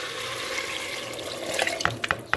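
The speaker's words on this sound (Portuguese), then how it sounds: "Eu tô com pressa e agora eu vou colocar água" Water is poured into a pot of beans that were briefly fried, a steady splashing rush that ends in a few sharp clinks near the pot.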